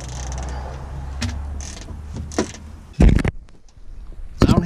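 Wrench loosening 10mm bolts on a Jeep during alternator work, close creaks and metallic clicks with a few sharper knocks, heard alone without speech.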